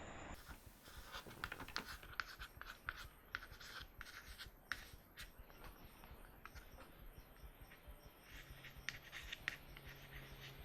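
Pen scratching steadily on paper while someone writes out the first twenty decimal places of pi by hand, a close, continuous soft scratching with small taps and pauses between digits, no talking.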